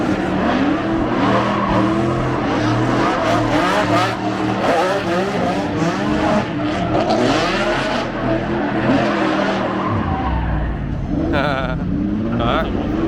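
A loud Ferrari engine roars and revs continuously with tire squeal and skidding mixed in, in a crowded racing setting with people talking and shouting over the noise throughout.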